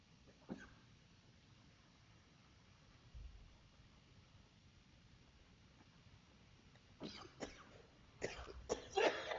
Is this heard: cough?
yes